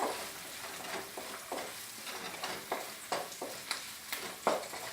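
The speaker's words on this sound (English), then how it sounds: "You also stir fry" Carrot, pepper and sausage stir-fried in hot oil, a steady close sizzle with repeated scraping strokes of a spatula at a quick, regular rhythm.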